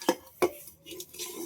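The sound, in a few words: utensils being picked up after making a chana snack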